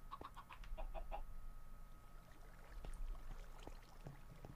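Chickens cluck in a Minecraft world, a few short, quiet clucks near the start over a steady low hum of background noise, with more scattered faint sounds after.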